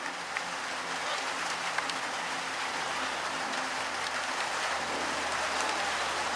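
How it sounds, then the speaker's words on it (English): Steady, dense rain drumming hard on a corrugated metal roof at a cricket ground, a constant loud hiss with scattered sharper drops, no voices. "The rain is still coming down."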